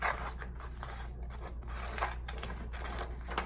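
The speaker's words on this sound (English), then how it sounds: "I just kind of put it on the edge and I cut around the circle" Scissors snip around a circle in pink paper, a close series of scratchy, rasping cuts that continue steadily throughout.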